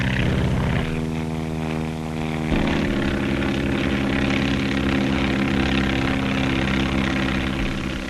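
A propeller-driven skywriting airplane drones steadily and loudly throughout. Its engine tone shifts in pitch at about one second and again at two and a half seconds, as if the plane is changing power while it turns.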